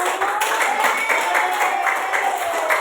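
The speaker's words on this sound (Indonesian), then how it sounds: "saya tepuk tangan dulu Pak Ibu" Clapping in a classroom during a physical education lesson on infectious and non-infectious diseases; brisk applause fills the short stretch, fairly loud and steady, with some voices mixed in.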